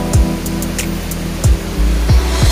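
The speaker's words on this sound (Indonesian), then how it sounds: "Bisa didengar suara gemuruh airnya juga." The Ciliwung river roars far below a high suspension bridge between two villages, a steady loud rushing wash broken by low thumps.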